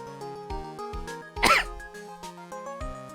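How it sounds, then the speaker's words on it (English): A single sharp cough bursts out over soft, looping game music from Phoenix Wright: Ace Attorney – Trials and Tribulations, then the tune carries on alone. "There's going to be a lot of coughing tonight"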